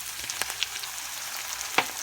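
Preserved bean curd drops into a hot stir-fry pan of onion, ginger and garlic, giving a steady, close frying hiss broken by a few sharp crackles and spits.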